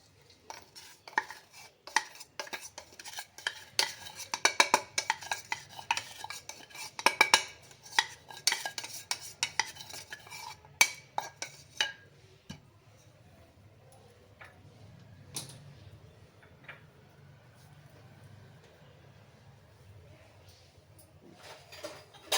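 Mango pickle being stirred by hand with rock salt and powdered mustard and fenugreek, giving a run of close clinking, scraping spoon taps that fade to a quieter, softer mixing in the second half.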